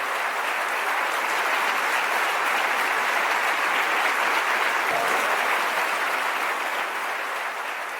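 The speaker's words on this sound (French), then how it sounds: "Applaudissons nos frères et sœurs." Steady, dense applause from a church congregation at a Bible study gathering in Jacksonville, Florida, filling the room evenly with no pauses and almost no voices.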